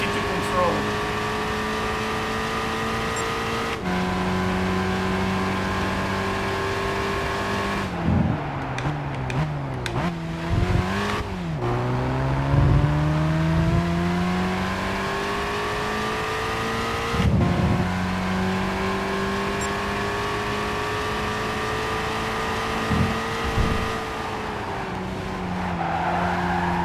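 A light, nimble race car from Gran Turismo 5 drones steadily throughout as it drives, with its engine pitch rising and falling through gear changes and moments of tire squeal.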